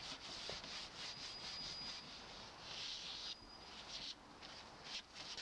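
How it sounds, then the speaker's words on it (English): Medium wire wool rubs steadily across a varnished wood veneer cupboard, a close, soft scratchy hiss repeating in back-and-forth strokes, faint and alone. "I'm now going to go over it with the wire wool."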